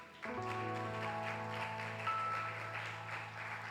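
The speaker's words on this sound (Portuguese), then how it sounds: "Você pode aplaudir Jesus?" A church congregation applauds steadily, a dense wash of clapping blended with sustained music that carries on beneath it from start to finish.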